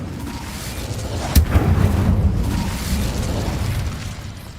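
Incendio fire spell in Hogwarts Legacy, a sudden close burst followed by a roaring, crackling whoosh of flame that rumbles on and slowly fades, with no talking.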